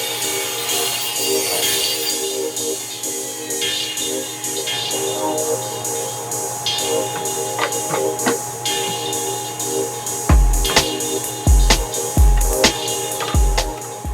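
A table saw with a crosscut sled cuts scrap wood to a straight edge. A steady motor hum runs throughout, then several sharp, loud cutting bursts come in quick succession near the end.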